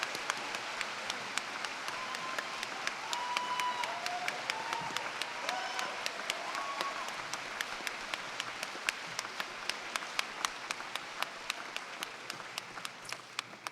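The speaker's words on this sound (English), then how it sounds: "Big round of applause for all our Bachelor of Arts in Early Childhood Care and Education." Audience applause at a university graduation ceremony for Bachelor of Arts in Early Childhood Care and Education graduates: sustained, steady clapping from a large crowd in a hall, fairly close and continuous, with brief faint voices mixed in.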